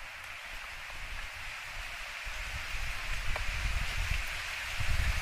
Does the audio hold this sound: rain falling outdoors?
yes